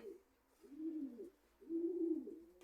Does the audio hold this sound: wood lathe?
no